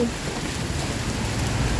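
Heavy rain pours down in a dense, even hiss at Lat Phrao Wang Hin in Bangkok, loud and unbroken from start to finish.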